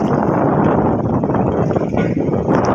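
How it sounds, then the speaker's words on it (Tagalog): Loud, buffeting monsoon wind batters the microphone in a continuous rough roar, swelling and easing in gusts with no voices present, at a spaceport during stormy weather. "malakas ang hangin at pabugso-bugsong"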